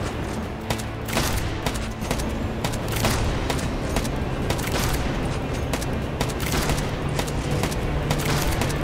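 Gunfire in the mobile survival shooter LifeAfter during an elite area operation, dense rapid shots layered over game music and effects, continuous and loud throughout.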